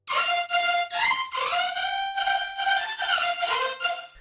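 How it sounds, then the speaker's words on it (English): Wobbly synth layer run through amp saturation, distortion, EQ, short reverb and vocoder, sustaining bright buzzy harmonic tones that bend and waver, loud and alone throughout. "I drummed it into a short reverb and vocoder to make it kind of wobbly."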